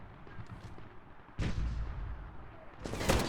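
Gunfire and heavy artillery blasts rumble in Medal of Honor, a faint low start followed by two loud booming impacts with long decaying tails, fairly distant.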